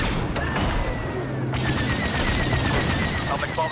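Rapid starfighter cannon fire from the Star Wars Battlefront 2 video game rattles in dense bursts over a constant roar of engine and battle noise, loud and continuous.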